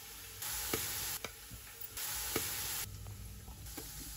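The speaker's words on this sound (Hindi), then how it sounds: "इसको फ्राई करना है।" Ginger fries in a pan for a yogurt chicken dish, a soft hiss of oil rising and falling in bursts, broken by light clinks and scrapes of a utensil against the pan.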